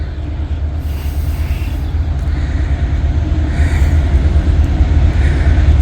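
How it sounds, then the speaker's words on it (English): A CSX freight train rolls past a lowered crossing gate, a continuous loud rumble of wheels and rail cars with low clatter building steadily over several seconds, no voices. "'Tis a CSX train."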